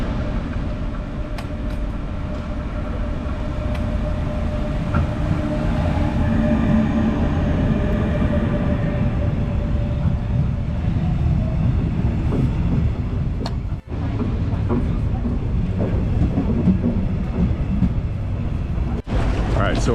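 A train at a German station platform, heard as a steady, loud rumble with rail noise throughout and a couple of sharp clanks near the end.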